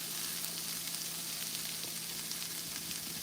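Chicken sizzles steadily in a pan as it is warmed back up during meal prep, a continuous close frying hiss with faint stirring and no talk.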